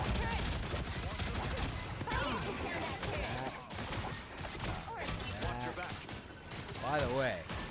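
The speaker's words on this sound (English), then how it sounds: "This is real firepower!" Rapid gunfire and weapon blasts from the hero shooter Marvel Rivals rattle in dense, overlapping bursts with sharp crashes throughout, while a person talks over the game action.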